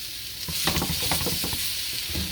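Sweet potatoes sauté in oil in a wok with a steady sizzle and bursts of stirring, spatula scrapes and clacks punctuating the continuous frying hiss, close and moderately loud.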